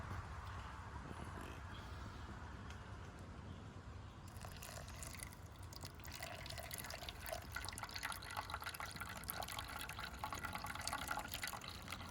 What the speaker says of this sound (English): The wind's blowing the rain out of the trees.